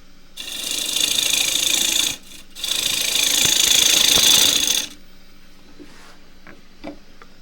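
Wood lathe spinning an out-of-balance spalted wood blank at just over 1,000 rpm, a loud steady rattling whir in two bursts with a brief pause between, then stopping and leaving quiet room tone with faint knocks.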